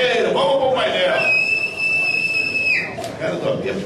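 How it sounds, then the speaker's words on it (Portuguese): A whistle is blown in one long, steady shrill note lasting over a second at a carnival samba school parade draw event, heard under someone talking and crowd noise. "cara do apito, você de apito, não é brincadeira, não."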